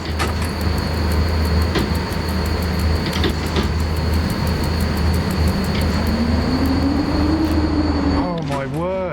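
Train running in the SimRail video game: a steady loud rumble with a constant high whine and regular rhythmic clicks, a rising tone near the end, with a voice talking over it.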